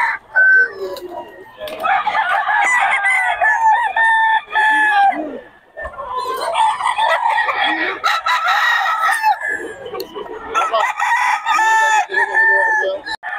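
Chickens including a black hen and a rooster, with the rooster crowing in three long loud calls amid clucking, close by on a farm.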